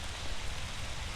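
Steady rain falling in the video game Intergalactic Fishing, a dense continuous hiss of drops on surfaces at an even level, alone with no talk, over about a second.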